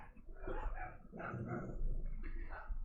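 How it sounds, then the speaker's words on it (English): Several neighbourhood dogs bark together from houses along a street, a dense overlapping chorus of barks running steadily throughout at moderate distance. "each dog on every house starts barking in tandem"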